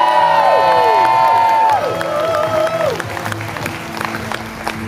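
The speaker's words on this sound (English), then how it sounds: "Give them a cheer, folks." A TV talent show audience at The Voice finals bursts into loud applause and cheering. A rising-and-falling whistle-like tone opens the clip before the clapping settles into a steady roar.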